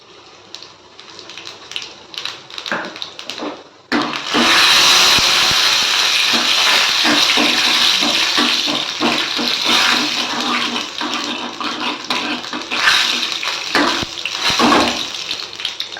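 Cumin seeds and urad dal hit hot oil in a kadaisal tempering, with water in the ladle. After a quiet start they burst into a loud, dense, crackling sizzle that spatters on without a break.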